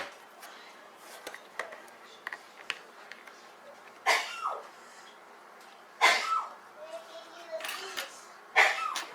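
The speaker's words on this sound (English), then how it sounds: "that is my wife and her very strange sneeze" Several odd, abrupt sneezes from a woman burst out at intervals over a quiet room with faint clicks and shuffling, each sharp and brief.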